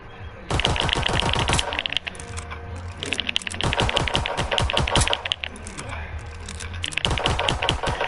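Rapid, rattling bursts of machine gun fire in a video game, in repeated fast volleys with short gaps, loud and close, with some voice mixed in.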